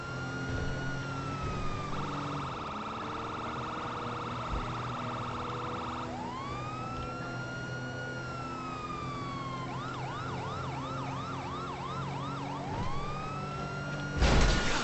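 Ambulance siren wailing continuously during a high-speed chase of a stolen ambulance in GTA 5, cycling between long wails and rapid yelp sweeps over steady engine noise, loud and close with no talking.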